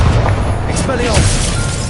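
A spell being cast in the Hogwarts Legacy game, heard as a loud booming magical blast with a sustained rumbling low end, layered with dense game effects and speech throughout.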